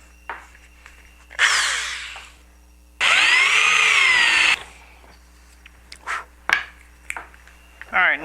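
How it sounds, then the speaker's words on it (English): A power drill bores holes in a panel for audio, USB and power connections, with several short whirring bursts, one longer steady run near the middle and brief pauses between, close up. "Let's go ahead and drill this in."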